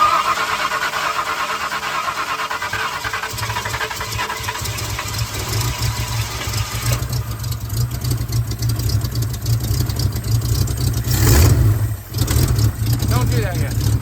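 A 1964 Ford F100 engine runs loud and steady close by, with a rough rumble and a surge partway through as it revs, while people talk over it.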